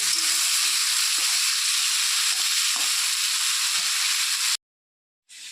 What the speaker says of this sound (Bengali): তো ভালো করে সবজিটা একটু লাল লাল করে ভাজতে হবে